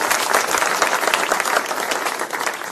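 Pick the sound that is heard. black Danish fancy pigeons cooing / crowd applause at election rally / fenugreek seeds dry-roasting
crowd applause at election rally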